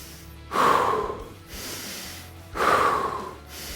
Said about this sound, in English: now start bellows breathing